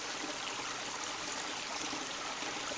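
A creek on a mountain trail flows moderately over a rock slab, giving a steady, close, broadband rush and trickle that stays even throughout with no voices.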